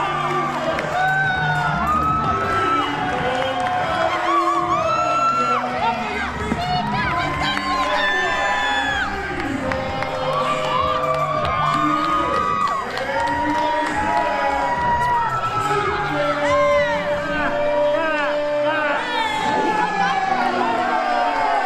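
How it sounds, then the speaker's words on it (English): Wrestling crowd at a live pro wrestling show cheering loudly and continuously, with whoops, shouts and whistles throughout, while an announcer talks over the noise. "The charismatic Colombian Chico Suave out in front of the crowd. You can see they love him"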